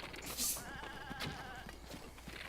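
A goat in The Legend of Zelda: Breath of the Wild gives a short bleat amid faint background noise, quiet and brief.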